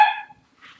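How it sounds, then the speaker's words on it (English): A single sharp dog bark at night, loud and close, fading quickly into silence with a faint trailing yip. "And a dog barks out in the night."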